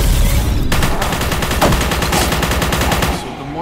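Rapid SMG fire in the video game Forgive Me Father, a fast steady burst of loud close shots lasting about three seconds before cutting off.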